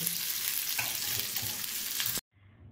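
Okra fries in a pan while salt is sprinkled in and stirred. A steady, dense sizzle carries occasional stirring scrapes, then cuts off abruptly, leaving only a faint low hum.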